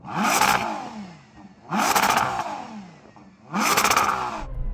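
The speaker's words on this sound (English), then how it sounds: "I can't believe how quickly this engine revs up for an SUV's engine." A Ferrari Purosangue engine revving hard three times in a row, each burst rising sharply and falling away, loud and close with short pauses between.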